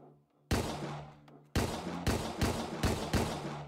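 Gunfire in the video game Deadbolt: several loud, close shots in quick succession after a brief quiet start, each a sharp broadband crack with a short tail, alone with no voices.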